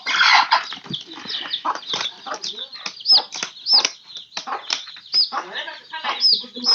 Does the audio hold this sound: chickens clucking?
yes